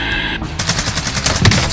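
Rapid bursts of automatic gunfire in the video game Call of Duty Warzone, a loud, close string of cracking shots following a brief lead-in.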